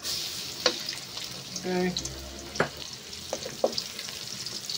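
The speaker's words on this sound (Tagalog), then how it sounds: "magigisa na tayo. Lagyan tayo ng kunting oil. Lagyan tayo ng garlic." Garlic hitting a little oil in a pan for a Filipino ginataang tilapia, a brief sizzle over faint kitchen clatter, with a few sharp utensil knocks and a short spoken word.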